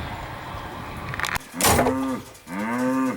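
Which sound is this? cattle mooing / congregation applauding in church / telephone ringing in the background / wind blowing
cattle mooing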